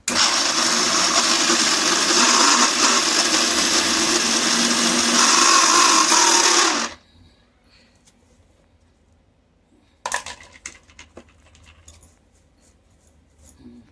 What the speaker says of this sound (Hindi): अभी मैं गोला पीस रही हूँ।